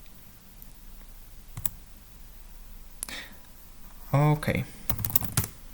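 A computer keyboard is tapped in a few scattered clicks, then a quick run of keystrokes while a password is entered, close and crisp, with a brief spoken word in between.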